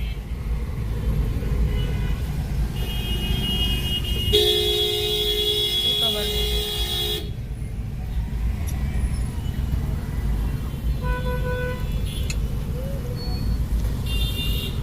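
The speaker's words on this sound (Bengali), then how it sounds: "কি সুন্দর আস্তে আস্তে গাড়ি চলে জ্যামের ঠেলায়।" Slow-moving jammed traffic in Dhaka rumbles steadily, with one loud, sustained car horn lasting about three seconds, then a few shorter toots further off.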